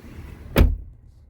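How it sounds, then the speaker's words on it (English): A heavy door on a 2016 Cadillac Escalade Platinum swings shut with one deep, solid thunk, close and loud, and the cabin goes quiet afterward. "It's a heavy door, and hear it as it shuts."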